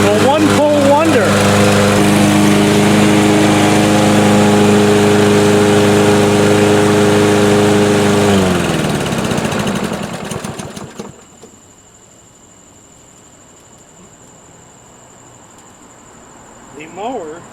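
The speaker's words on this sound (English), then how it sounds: "The mower ran with perfection." A lawn mower engine runs loud and steady after a single-pull start, then cuts off and winds down into near silence, with a faint noise just before the end.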